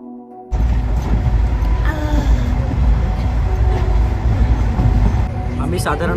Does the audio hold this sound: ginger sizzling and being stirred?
no